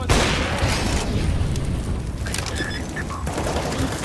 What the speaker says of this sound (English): They'll throw in a flashbang.